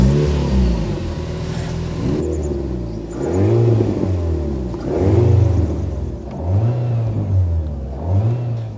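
An Alpine car's engine runs close by and is revved several times in a row, each blip rising to a loud growl and falling back to a rumbling idle.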